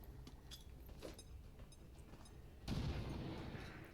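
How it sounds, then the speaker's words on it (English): A grenade bursts with a sudden broad boom partway through a turn in XCOM 2 Long War of the Chosen, following quieter clicks and game ambience, then a lingering rumble. "And then we're going to go ahead and throw this grenade."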